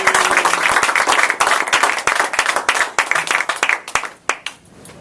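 Audience applause at a speech event, a crisp burst of many hands clapping close and loud, sustained for a few seconds before thinning out and fading near the end.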